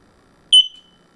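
A single short, high electronic beep from an X-Sense WiFi smoke detector entering pairing mode sounds once in near silence, ringing briefly before fading.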